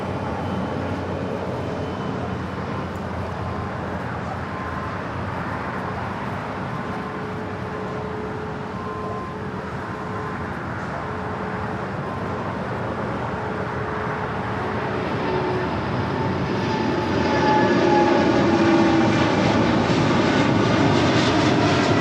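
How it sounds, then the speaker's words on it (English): A Singapore Airlines Boeing 777 takes off from the south side of LAX, a sustained engine roar that swells noticeably louder and brighter in the final seconds as the jet powers up, with no voices. "Here we do have a 777 about to take off here on the south side."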